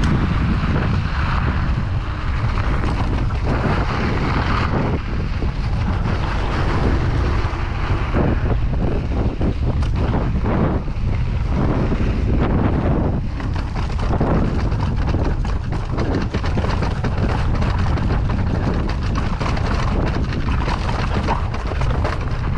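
Steady, loud wind buffets the microphone on a motorcycle ride in cool spring weather, a constant broadband roar that runs the whole length without any talking.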